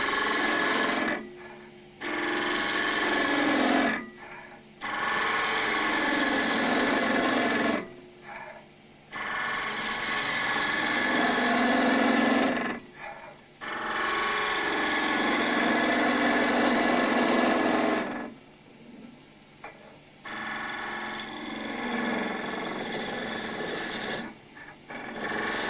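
A skew chisel cuts wood turning on a lathe, producing repeated long, steady rasping passes of several seconds each, separated by short pauses, close and clear with no talking.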